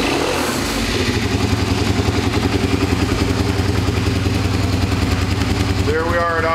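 A 2000 Suzuki SV650 race bike fires up from cold and settles into a loud, lumpy idle with a steady pulsing thump, close-up and continuous, with someone speaking briefly near the end.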